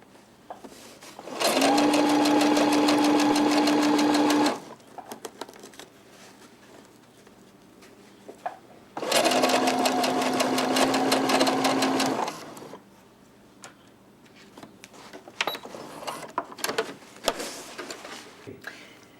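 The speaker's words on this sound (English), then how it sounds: "just using the longest stitch possible, stitch up the side, just to hold it in place" A sewing machine runs a long-stitch seam in two steady motorized bursts of a few seconds each, separated by a pause with faint handling clicks, close and loud.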